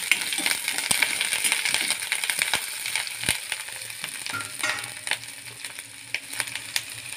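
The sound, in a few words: curry leaves and onion sizzling in hot oil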